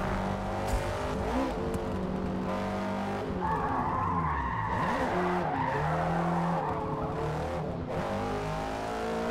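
A car drifting on drift suspension in the Forza Motorsport video game, its tires squealing and skidding continuously over a revving engine for several seconds, loud and with no talk over it.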